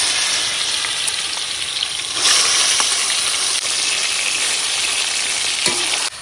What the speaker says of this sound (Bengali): তেলটা গরম হয়ে গেছে, এখন আমি মাংসের পুরটা দিয়ে দিতেছি।